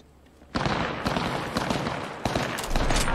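Rapid video game gunfire bursts in after a brief quiet moment, a loud dense barrage of shots that keeps going, with a second volley cutting in near the end.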